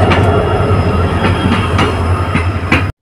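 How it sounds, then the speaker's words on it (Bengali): The 15768 Siliguri Intercity Express rolling into Madarihat station, a loud steady rumble with a low hum and regular clacks from the wheels over rail joints, then an abrupt cut to silence. "15768 শিলিগুড়ি ইন্টারসিটি এক্সপ্রেস নির্দিষ্ট সময় থেকে 3 মিনিট দেরিতে ঢুকছে মাদারিহাট স্টেশনে"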